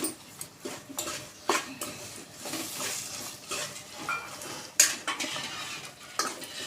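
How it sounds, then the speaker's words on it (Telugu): Masala spices with turmeric frying in a pan while a utensil stirs and scrapes, giving repeated close clinks and scrapes at an irregular rhythm over a soft sizzle, with no talk. "ఇప్పుడు వీటన్నిటిని కాసేపు ఫ్రై చేసుకోవాలండి."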